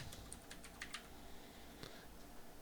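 Typing on a computer keyboard: a quick burst of light, separate key clicks, fairly soft and close, heard alone over a faint room hum with no talking.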